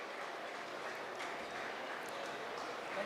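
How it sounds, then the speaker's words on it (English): An audience at a commercial kitchen industry expo in Bengaluru applauds, a steady, fairly faint wash of clapping that holds evenly throughout. "Can we have a round of applause"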